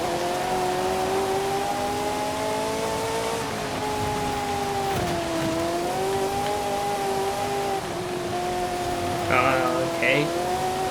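A 1984 Ferrari 288 GTO races in Forza Horizon 5, its engine a steady sustained drone that rises and dips with gear and throttle changes, with a brief tire squeal near the end.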